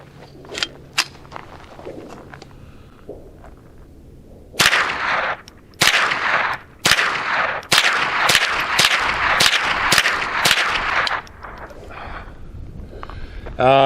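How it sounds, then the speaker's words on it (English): An Adler RF224 rifle fires Remington Viper .22 rounds from its original magazine, about ten loud sharp shots spaced roughly a second apart, outdoors, preceded by a few fainter handling clicks. "next I want to try 10 rounds of Remington Viper through the original magazine"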